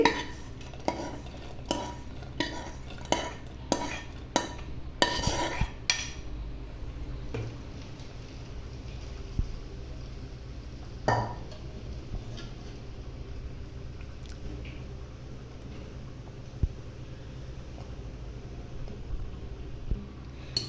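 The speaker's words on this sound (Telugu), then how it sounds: "చూడండి వేసాం కదా, బాగా కలుపుకోవాలండి" A spoon stirs moong dal payasam in a pot after cashews, raisins, coconut and crushed cardamom go in, giving a run of sharp, regular scrapes and clinks against the metal, then softer, sparser knocks over a low steady background.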